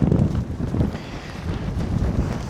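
Strong gusting wind buffets a Hilleberg Soulo tent, a dense continuous roar with rumbling low gusts and no voices.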